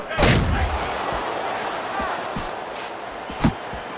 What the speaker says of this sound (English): Moore's rocked by that punch.